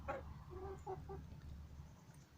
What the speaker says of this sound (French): donc la fille de Isabelle, une autre Marrance argentée que je vous avais présentée dans les photos